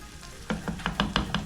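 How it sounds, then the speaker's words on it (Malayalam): Tomato and shallot paste sizzles in a pan for a spicy Kerala-style tuna fish curry, with quick rhythmic stirring scrapes rising over the frying hiss after a brief quieter start. "ഈ തക്കാളീൻ്റെയും അതുപോലെ ചെറിയ ഉള്ളിയുടെയും പേസ്റ്റ് ഇതിലേക്ക് ആഡ് ചെയ്തിട്ട് ഒന്ന് ഒരു 2-3 സെക്കൻഡ് ഒന്ന് ഇളക്കിയെടുക്കുക"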